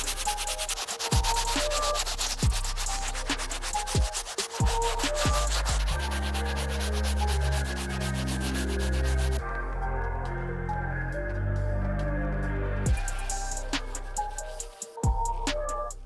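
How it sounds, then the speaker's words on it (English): A medium bristle brush scrubs dirty shoe insoles with cleaning solution for an Air Force 1 Bapesta restoration, a steady close scratchy rubbing that runs continuously with brief pauses between strokes, and no voices. "We're gonna give them a good scrub using the medium bristle brush and our solution."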